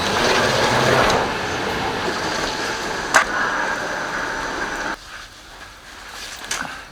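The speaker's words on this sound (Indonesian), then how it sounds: "sekarang udah di kereta tujuan Arnhem" A steady low rumble and hiss fill the inside of a moving train carriage bound for Arnhem from Utrecht, Netherlands, with a couple of sharp clicks before the noise suddenly drops quieter.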